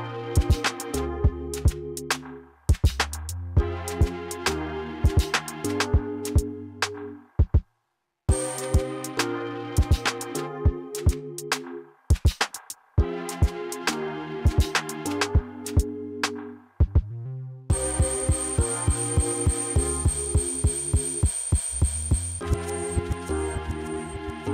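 An electronic beat plays back from a Native Instruments Maschine Plus while lock states morph over two bars. Punchy drums and bass loop with brief dropouts, and the layers shift and thicken as the pattern changes, ending with a bright sustained tone over the groove.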